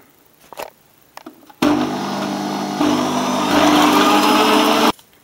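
An electric mixer whirs loudly through cake batter with vegetable oil for an apple and cinnamon cake, a few soft knocks first, then a sustained close motor drone for about three seconds that rises slightly before cutting off.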